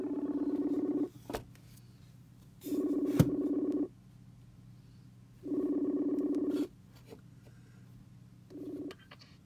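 A telephone call in progress gives four repeated electronic tone bursts, each about a second long, separated by quiet gaps over a faint background hum.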